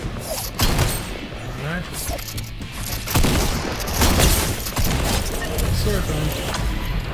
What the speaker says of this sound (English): We got some shots going off over here.